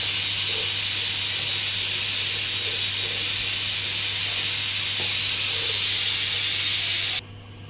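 Menapa vada batter, dropped through an oiled tea strainer into hot oil, fries with a steady, loud hissing sizzle that continues evenly before abruptly quieting near the end.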